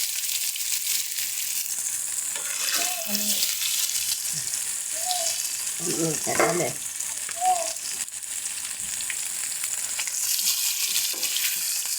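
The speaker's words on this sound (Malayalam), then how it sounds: "ഇനി നമ്മുടെ മീനൊന്ന് വറുത്തെടുക്കാം." Fish frying in hot oil in a pan, a steady loud sizzle running throughout, with a few brief spoken words over it.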